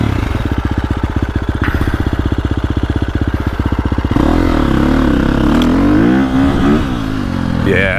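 A 2025 KTM 350XCF dirt bike engine idles with a rapid, even chatter, then revs hard into a loud rising howl that wavers as the throttle rolls on and off, close to the microphone.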